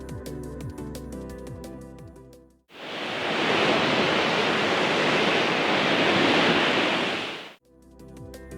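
Wind noise made without synthesizers forms a steady, broad, rushing roar. It swells in and fades out over about five seconds, with brief other sounds before and after.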